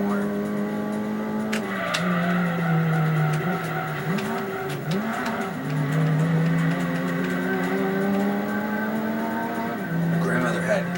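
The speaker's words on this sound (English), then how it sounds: "It's easy to drift in this car." A car drifts through corners in a driving video game, with a steady, loud engine drone and long, wavering tire squeals that rise and fall throughout, while a person talks over it.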